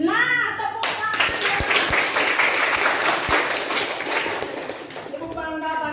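Children in a classroom clap their hands together in a burst of lively applause lasting several seconds, with a teacher's voice heard briefly before and after.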